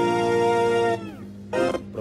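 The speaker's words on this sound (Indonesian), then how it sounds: "Untuk suara keys ya, suaranya kayak gini." Keyboard keys from a song hold a bright sustained chord that is cut off, then return in short stabbed chords, loud and close with no voices.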